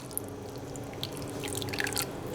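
Light soy sauce poured into a garlic dipping sauce in a kitchen, a faint trickle of small liquid drips and splashes building toward the end, close and quiet.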